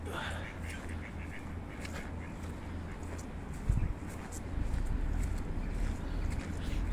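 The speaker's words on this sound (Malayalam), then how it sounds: "ധാരാളം ഡക്സ് കൂടി." Ducks quacking across a flooded park, South Inch Park in Perth, Scotland, with pigeons also present; calls come intermittently over steady wind and water noise, with a louder gust or splash near the middle.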